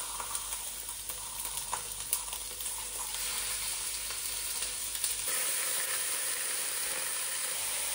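Food sizzles steadily in hot ghee in a pan over a high flame, a continuous close, loud frying hiss with a few crackling pops.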